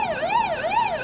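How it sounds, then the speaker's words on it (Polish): Fire brigade siren at a burning baler on a farm: a loud, close, wailing tone that rises and falls in steady, rapid sweeps, with no talking. "jak widzicie syreny chodzą i mogliby to wyłączyć"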